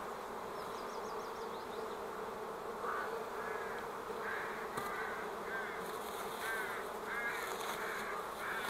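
Honey bees humming inside an open hive during a spring inspection, a steady low drone throughout with faint bird calls and crow caws in the background and no talking.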